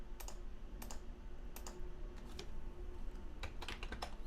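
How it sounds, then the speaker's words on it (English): Keys clatter on a computer keyboard in quick bursts of typing, close and fairly quiet against a low steady room hum. "And now I'm going to type over that again."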